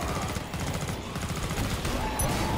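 M16 rifle fire in a console shooting game rattles in rapid, continuous bursts, dense and steady throughout, with only faint background game noise.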